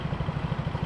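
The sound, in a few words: motorcycle exhaust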